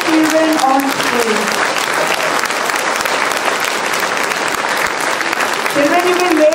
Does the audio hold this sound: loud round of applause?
yes